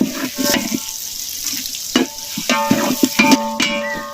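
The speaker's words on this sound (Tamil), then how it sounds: "சோம்பு நூறு பட்டை வகைகள் பத்து கிராம் ஏலக்காய் பத்து கிராம்பு பத்தை சேர்த்து அப்படியே எண்ணெயில் வதக்கு வதக்குன்னு வதக்கலாம்" Fennel, cinnamon, cardamom, cloves and peanuts sauté in hot oil for a Chettinad-style wedding goat curry. Steady close sizzling is broken by sharp clinks and scrapes of a spoon stirring the pan, with no voices.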